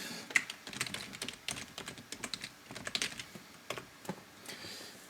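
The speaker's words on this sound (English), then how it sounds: "I have to type in my username again" Quiet, close keystrokes on a computer keyboard as a username is typed, irregular bursts of clicks over about five seconds with no talking.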